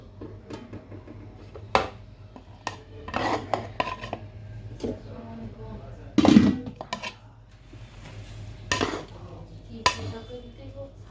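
A large pot of biryani made with five kilograms of rice and seven kilograms of meat is stirred and scraped, with metallic scrapes, knocks and rasping drags against the pot in an irregular rhythm, close and fairly loud.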